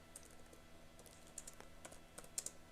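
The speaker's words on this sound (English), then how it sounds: "So I will type docker" Soft typing on a computer keyboard as a command is entered, with faint, irregular key clicks over a low steady hum and no voices.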